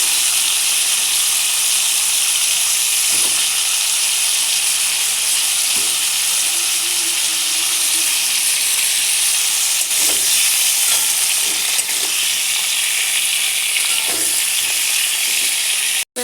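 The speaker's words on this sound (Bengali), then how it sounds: "আমরা ফুলকপিটাকে ভেজে তুলে নেব।" Cauliflower pieces frying in hot oil in a pan, a steady close-up sizzle and hiss with a few faint stirring clicks, no voices.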